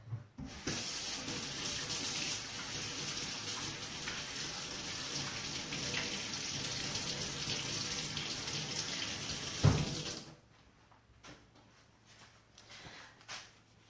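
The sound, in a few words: water running from a tap while washing hands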